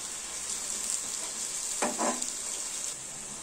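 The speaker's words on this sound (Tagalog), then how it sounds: "Fry lang natin siya hanggang mag-golden brown." Onion pieces frying in hot oil for chicken biryani, a steady close sizzle throughout, with a brief stirring scrape around the middle.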